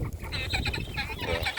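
Molting barred rock hens cluck and murmur close by, a brief run of soft, overlapping throaty clucks and chirps with no pauses.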